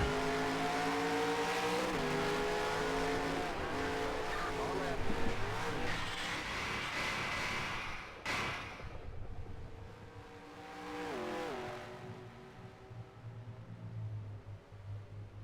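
A stock car engine in NASCAR Racing 2003 at Watkins Glen roars and shifts through gears, then a sudden crunching impact cuts in as the engine blows, followed by revving again, loud and close.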